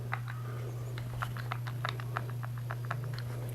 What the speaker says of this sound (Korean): 근데 이제 약하게 당기면 안 내려오는데 조금만 더 해도 이렇게 끌려 내려오고 문제는 이제 여기서 이제 버튼이 약간 헐거워가지고 딱딱딱딱 소리가 납니다